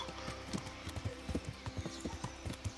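Horse hooves clip-clop in a steady, quick rhythm while riding in the video game Kingdom Come: Deliverance, with a faint low rumble underneath.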